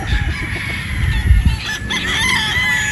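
An Escolin white gamefowl rooster with a straight comb crows loudly and close by, one full cock-a-doodle-doo call ringing out over a steady, noisy outdoor background.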